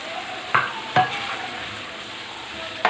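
Charsi karahi with chopped ginger and fresh coriander being stirred in the pan, with a steady soft sizzle of frying and three sharp scrapes of the spoon against the pan.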